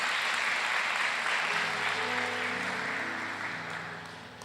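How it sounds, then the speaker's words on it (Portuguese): Sustained applause from a church congregation fills the room, a dense steady wash of many hands that slowly fades toward the end, with no talking over it. "dê um aplauso bem forte ao Senhor dos Exércitos"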